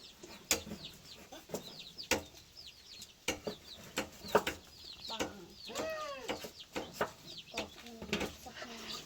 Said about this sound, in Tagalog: Yung mga manok and pato.